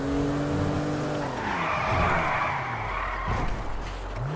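Car in GTA driving hard and skidding, a loud engine drone with a long tire squeal sweeping through the middle, continuous and close with no talking.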